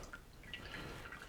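Water drips and trickles faintly while paint is thinned with water on a miniature-painting workbench, a few soft close drops over a low steady background.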